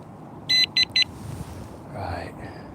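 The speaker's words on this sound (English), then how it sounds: "Let's turn on the alarm." Fishing bite alarm for pike fishing switched on, giving three quick, loud electronic beeps close up, followed by faint outdoor rustle and a brief murmur of talk.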